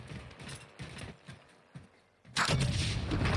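A sniper gunshot in Call of Duty fires as a single loud, sharp blast midway, followed by a sustained burst of noisy battle sound. Shorter thuds and clatter are heard before it.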